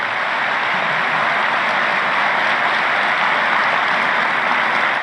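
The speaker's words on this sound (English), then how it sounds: "I'm going to tell him about the spontaneous applause before I even finish" Steady, dense applause fills a convention hall of police chiefs, a large crowd clapping loudly and evenly without a break for several seconds.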